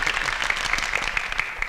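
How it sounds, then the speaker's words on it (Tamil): Hand clapping from an audience at a ceremony, a short burst of dense, fairly loud applause with individual claps standing out. "ஏண்டா என் பேருக்கு மட்டும்தானே கைத்தட்ட சொன்னேன்?"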